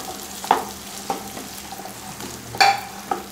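Chopped small onions (shallots) for a Kerala-style chicken curry tipped into hot oil, a continuous close sizzle broken by a few louder bursts and stirring clatters, no speech.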